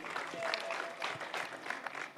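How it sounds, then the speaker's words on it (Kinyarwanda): Wedding guests celebrate with applause and ululation, a faint, moderately distant patter of clapping with thin trilling cries over it, continuing for a couple of seconds. "Amashyi n'impundu."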